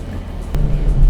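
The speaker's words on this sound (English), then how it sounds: "The engine sounds all right when you rev it" A four-cylinder car engine rises in a rev about halfway through, its low rumble swelling and holding steady after a brief sharp burst.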